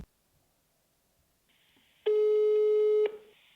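Quiet line noise, then a single steady phone ringing tone sounds for about a second before cutting off.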